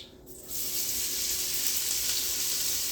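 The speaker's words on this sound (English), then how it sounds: "We're gonna add the onions." Onions drop into a hot pan on medium heat and start frying, and after a short quiet start a steady, loud sizzle rises and holds right up close.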